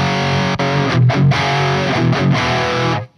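Heavily distorted electric guitar chords ring out loud through a Soldano SLO-100 amp pushed by an overdrive boost, sustained rock tones with a few choppy rhythmic hits before cutting off.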